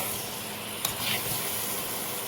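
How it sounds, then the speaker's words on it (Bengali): Meat marinated in yogurt and spices fries in a pan with a steady, dense sizzle throughout, broken by a single brief clack, with no talking. "এবার একটু এটাকে ভেজে নেব।"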